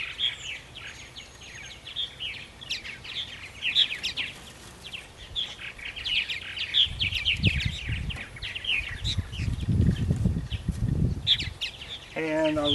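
Purple martins in a nest box chirp with rapid, high twittering calls in irregular bursts, near and moderately loud, while low handling noises and rustling sound underneath.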